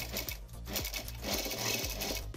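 Sewing machine stitching a fabric face mask, a rapid, steady mechanical whirr with regular thumping needle strokes about every third of a second, close and continuous.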